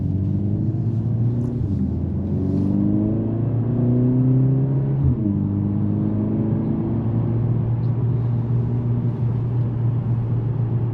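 A 2024 Mercedes-AMG CLA 45 S Coupe engine rises in steady revs, drops briefly near two and five seconds, then climbs again, a loud close drone heard from inside the car.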